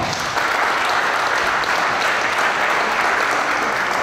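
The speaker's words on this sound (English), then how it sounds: "Let's give them a round of applause." Studio audience applause at a drag racing giveaway event for a 2017 Challenger, a dense, steady wash of many hands clapping, loud and continuous throughout with no voices standing out.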